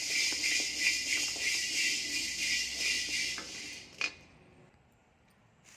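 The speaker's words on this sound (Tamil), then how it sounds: "மிளகு கட்டையும் போட்டு வறுத்துக்கலாம்." Spices such as black pepper being stirred while dry-roasting in a pan, a steady bright rustling sizzle that runs for about four seconds with a clink near the end, then fades to quiet.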